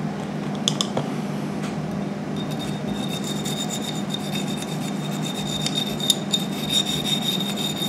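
A brush scrubs the firing pin area of a Jennings J22 Generation 1 pistol with quick, close, rasping strokes and small clicks, fairly loud with no talk.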